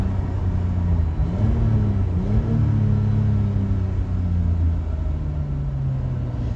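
BMW 333i or 325iS six-cylinder engine revved hard to the rev limiter, a loud steady drone with rising and wavering pitch held close for several seconds, no voices.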